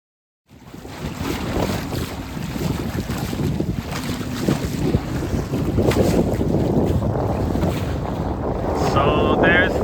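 A 26-foot sailboat beating upwind under sail with the engine off on the Tyrrhenian Sea, steady wind buffeting the microphone and water rushing along the hull, with a voice talking over it.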